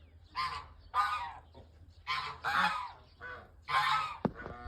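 A flock of farm geese honks repeatedly at close range, a run of loud, nasal calls in uneven bursts with short gaps between them and a sharp click near the end.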